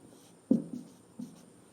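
Pen writing a sentence by hand on paper, a few soft close scratches and taps in quick succession in an otherwise quiet room.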